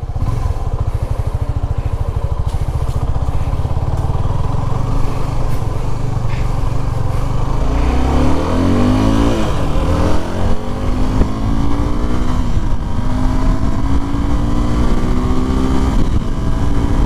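A Suzuki Gixxer 250 BS6 motorcycle engine runs steadily and loudly while riding, with rising pitch sweeps partway through as the bike accelerates up through the gears, no talk over it.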